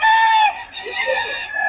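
A young rooster, a stag, crows loudly and close by in one strained, harmonic call that trails off into a rougher tail.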